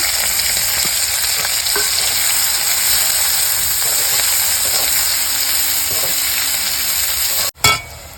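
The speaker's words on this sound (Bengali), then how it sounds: "দেখো এখন পেঁয়াজগুলো দিয়ে দেবো, একদম সুন্দর করে ভেজে নেব পেঁয়াজগুলো।" Onions frying in ghee in a rural Bengali kitchen make a steady, close, loud sizzle that holds evenly, then ends with a sharp knock near the end.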